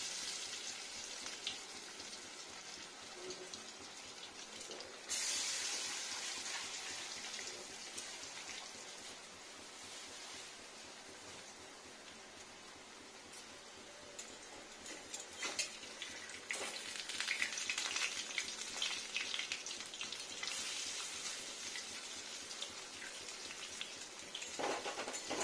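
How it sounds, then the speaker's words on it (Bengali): Papaya pieces fry slowly in oil in a pan, making a faint, steady hiss of small bubbles with brief louder bursts as pieces are moved or turned, and no one speaks. "একটু স্লো টেম্পারেচারে ভাজতে হবে।"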